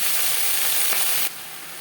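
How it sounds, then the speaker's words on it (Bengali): Okra fries lightly in hot oil in a pan with a steady, bright sizzle heard up close, easing slightly toward the end. "ভেন্ডি আমি হালকা করে ভেজে নেব।"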